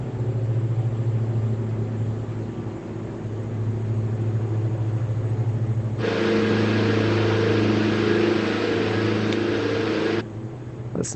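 Diesel aircraft engine in Microsoft Flight Simulator 2024 droning steadily in a low, truck-like hum, growing fuller and louder midway before settling back, with no talk over it.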